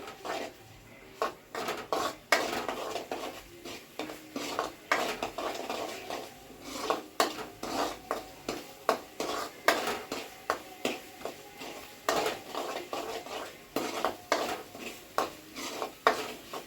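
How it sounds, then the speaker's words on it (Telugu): Food frying in oil in a home kitchen pan while a spoon stirs and scrapes, giving repeated clinking, scraping strokes over a steady sizzle, fairly close and continuous. "దీంట్లో వచ్చి ఇప్పుడు ఆయిల్ పైకి వచ్చేంత వరకు అయితే వేయించుకోవాలి"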